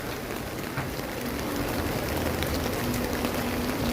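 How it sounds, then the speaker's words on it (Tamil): Steady heavy monsoon rain pours down on Dunlop Street in Singapore, a dense continuous hiss of drops hitting surfaces, with a faint low hum in the background. "மழை அப்படியே பெஞ்சிக்கிட்டு இருக்கு."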